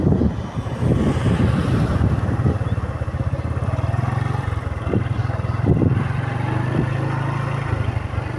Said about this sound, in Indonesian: dan angin sangat kencang sekali.